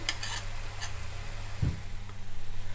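Masala paste for a peanut curry sizzles on a low gas flame, a steady soft frying hiss with a stir and a brief clink of a spoon against the pan partway through.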